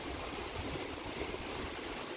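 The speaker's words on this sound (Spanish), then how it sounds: "Aquí hay otro río, o sea, tengo uno a cada lado." Steady broadband rush of a river flowing nearby, with a second river also close, one on each side, forming a continuous even wash of water alone without voices.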